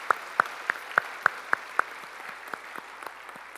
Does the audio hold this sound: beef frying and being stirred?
no